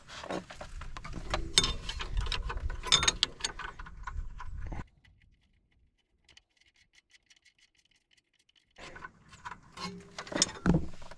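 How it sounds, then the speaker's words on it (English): Nut being tightened with a ratchet on the rear coilover of a 1997 Toyota Century V12, close rapid clicking bursts of ratcheting, a quiet pause of several seconds, then more ratchet clicks. "Now I need to put the nut on, tighten it down."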